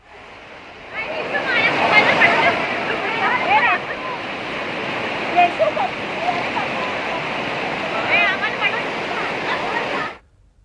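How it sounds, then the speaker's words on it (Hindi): Floodwater surges in a loud, continuous rush as it pours over a drain, running about two feet above it during heavy monsoon rain, with someone talking over the roar before it cuts off abruptly. "नाले के 2 फीट ऊपर तक से पानी बह रहा है"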